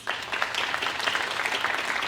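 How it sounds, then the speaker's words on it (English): An audience at a National Honor Society induction ceremony breaks into applause, a brisk, close burst of many hands clapping that starts abruptly and holds steady for two seconds. "give you a round of applause"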